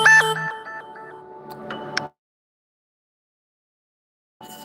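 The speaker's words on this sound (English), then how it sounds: "I'm gonna take this phone call" A phone ringtone plays for an incoming call, a melodic electronic tune for about two seconds, then silence before it starts again.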